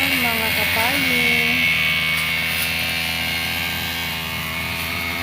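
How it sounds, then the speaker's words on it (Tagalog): A farm grass cutter's engine drones loudly and steadily while cutting grass, a continuous buzzing motor noise that stays close and fills the whole stretch, with a voice briefly audible over it near the start. "Ganyan lang po siya mag-grass cutter ang aking abay"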